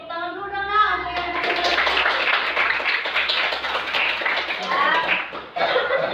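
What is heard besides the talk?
classroom children clapping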